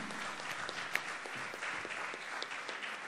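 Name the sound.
applause for the R&D department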